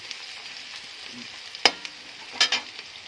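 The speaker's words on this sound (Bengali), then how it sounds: "এই যে আমার পেঁয়াজ ভাজা হয়ে গেছে" Onion fries in oil with ginger and garlic paste, a faint steady sizzle broken by a few sharp clicks of a utensil against the pan.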